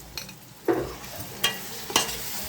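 Homemade masala powder of coriander, cumin, clove, cinnamon, cardamom and poppy seeds being stirred into a crab curry pan, a low sizzle broken by three distinct spoon scrapes and clanks.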